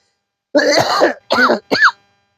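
A person who is unwell coughs and clears their throat three times in close succession, loud and near, each burst short and raspy, then silence.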